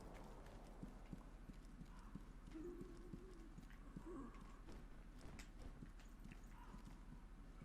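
Horse hooves clip-clop in the video game Sekiro, a steady, even rhythm of soft hoof strikes at moderate distance over a low ambient bed, with a faint voice murmuring briefly.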